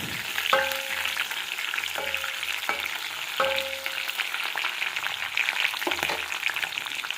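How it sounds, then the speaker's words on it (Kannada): Green chilies sautéing in oil in a pan over a medium flame, a continuous crackling sizzle with several sharp metallic clinks of a spatula against the pan. "ಹಸಿಮೆಣಸಿನ್ಕಾಯಿ ಹಾಕ್ಕೊಂಡು ಕಡ್ಕೊಬೇಕು. ಮೀಡಿಯಮ್ ಫ್ಲೇಮಲ್ಲಿ ಇಟ್ಕೊಬೇಕು"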